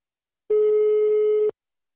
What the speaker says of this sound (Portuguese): eu vou ligar agora pra Norma